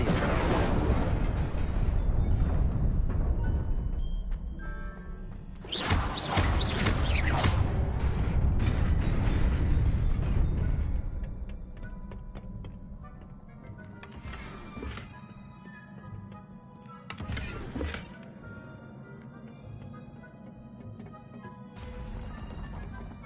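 In the Hogwarts video game, Incendio fire spells go off repeatedly: roaring, whooshing blasts of flame burst out, then fade into creaking, mechanical ambience, and a few sharper flare-ups punctuate the quieter stretch.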